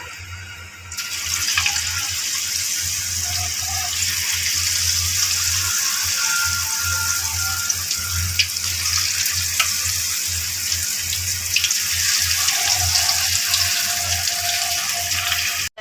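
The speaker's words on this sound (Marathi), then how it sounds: "आता एक एक चिकनचे तुकडे मी यामध्ये घालून याला फ्राय करणार." Pieces of chicken deep fry in hot oil in a home kitchen, giving a steady dense hiss and crackle that holds for the whole stretch, close and fairly loud with no talking.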